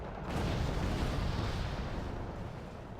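Helicopter napalm strike in the strategy game Wargame Red Dragon, with MI-4 or MI-35 helicopters; a dense, steady roar of burning fire and distant rumbling explosions, broad and continuous throughout, with no voices.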